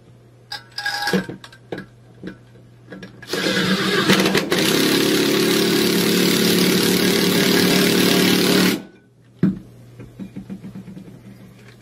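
A power drill drives the mounting bolts of a wall pull-up bar in one long, loud, steady whirring run of about five seconds, with scattered clicks and handling knocks before and after and no talk.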